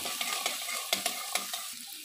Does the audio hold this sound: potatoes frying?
yes